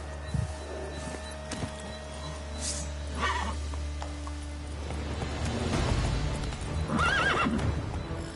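Roach, a horse in The Witcher 3: Wild Hunt, whinnies and neighs over steady clip-clopping hooves, with a louder burst of neighing toward the end against a low continuous game background.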